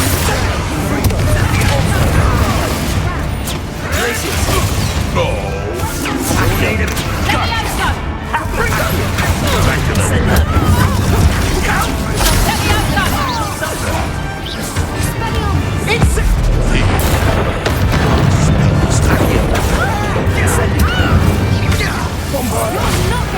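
Loud, dense explosions and crashing impacts from the Bombarda blasting spell in the video game Hogwarts Legacy, booming continuously for over twenty seconds amid chaotic battle noise.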